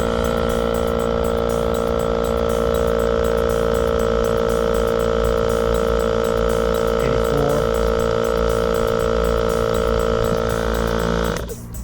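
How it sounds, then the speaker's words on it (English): A Fortress ultra quiet 12-volt air compressor pump runs steadily, with a constant close-up drone and buzzing hum that holds at an even level throughout before tapering off at the very end. "Turn on the pump."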